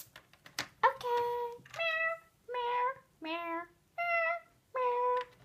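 A child imitates a cat with a series of six drawn-out, whiny meows in an even rhythm, close and fairly loud, after a few short noises at the start.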